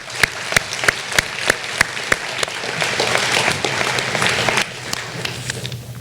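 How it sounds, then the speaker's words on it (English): Audience applause for families at an eighth-grade middle school promotion ceremony, starting as sharp separate claps that swell into steady clapping from a crowd, then thin back to scattered claps. "Please join me in giving them a round of applause."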